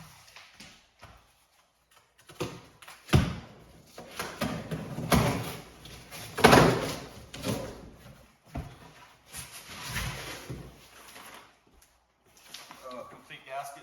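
Boxes of engine parts from Summit Racing being opened in a garage, with scattered cardboard rustles, tearing and thumps in irregular bursts at close range, and a person talking now and then.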